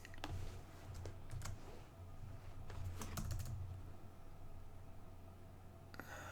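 Typing on a computer keyboard while setting up an Excel budget spreadsheet, a steady stream of soft, close key clicks in uneven bursts over a low room hum, pausing briefly near the end.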